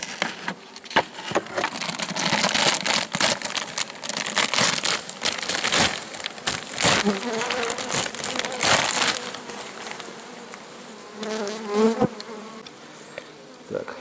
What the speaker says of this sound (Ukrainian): Відкриваємо вулик і дивимося, що всередині.